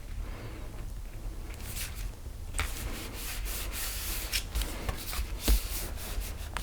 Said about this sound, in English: I'm going to slide that in.